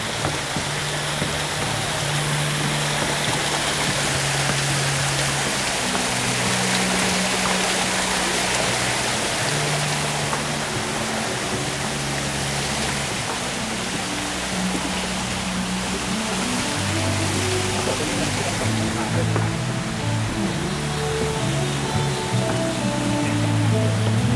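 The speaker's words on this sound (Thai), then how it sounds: "มีน้ำตกอยู่ตรงนี้สวยมากเลย" A waterfall at the Isaan-Isan Boutique Resort in Pak Chong, Khao Yai, pours with a steady, unbroken rush of water. Faint low tones sit beneath the continuous hiss.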